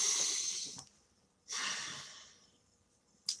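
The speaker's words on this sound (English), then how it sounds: "take a nice deep breath" Deep breathing from a person during a tarot reading, with a long airy inhale followed by a slow exhale and a short sharp breath at the end, close and fairly quiet.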